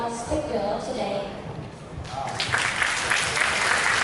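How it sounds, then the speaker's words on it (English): An audience at a Middlesex University guest lecture on digital twin technology applauds the speaker: a dense, steady patter of many hands clapping that swells and fills the room for a few seconds. "please give applause to our speaker today"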